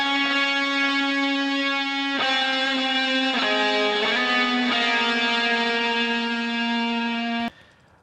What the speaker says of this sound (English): So that's the guitar sound that you'd be hearing.